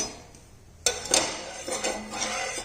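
Oil swirled around a hot pan on a medium gas flame, heard as a sudden metallic clatter followed by soft scraping and light clinks close by.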